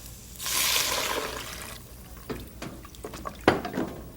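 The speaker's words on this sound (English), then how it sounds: "Now we have to add our water." Water poured into a pan of frying bitter melon and fenugreek seeds, a rushing hiss of liquid hitting the hot pan, then a few clanks and stirring knocks.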